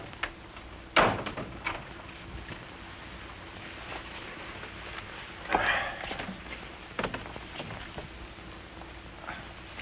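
A door opens and then closes in a 1949 film noir scene: two sharp knocks about five seconds apart, close and moderately loud against a quiet room with faint rumble.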